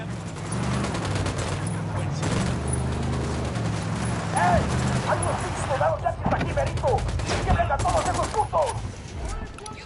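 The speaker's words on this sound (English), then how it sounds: "I'm opening fire on these shitheads" Gunfire in a video game firefight: bursts of rapid shots and scattered single cracks mixed with explosions, with people talking over the shooting.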